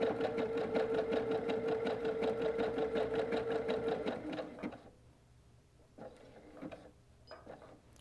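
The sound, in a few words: sewing machine zigzag satin stitching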